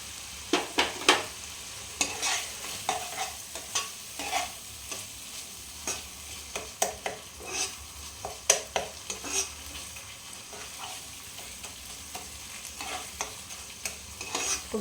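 Spice masala for a chickpea chana masala is stirred and fried in a pan, with a soft sizzle broken by repeated scraping strokes of a spoon at an uneven rhythm, close and fairly quiet, with no talking.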